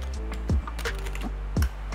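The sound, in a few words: gaming keyboard keys clicking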